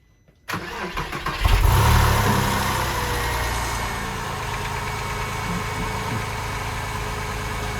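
Porsche 996 Carrera 2 cabriolet after an oil change, starting up after a quiet moment with a loud crank and catch, then a rev before settling into a steady, close idle.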